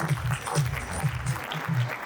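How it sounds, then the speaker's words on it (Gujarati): A crowd at an awards gathering claps for an elderly couple, a brief burst of steady hand-clapping. A low voice murmurs underneath. "અંકલ અને આંટી માટે એકવાર જોરદાર તાળીઓ થઈ જાય"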